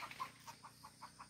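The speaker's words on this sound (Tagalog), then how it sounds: "may mga manok pa." Chickens on a rural Philippine farm give a quick run of soft, faint clucks in an evenly spaced series, with no voices over them.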